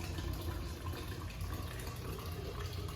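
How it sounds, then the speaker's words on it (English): Warm water pours steadily from a teapot into a vessel during a liquid carbon dioxide demonstration, a continuous close gushing fill sound with no talking over it. "Now I'm going to put some warm water from my teapot"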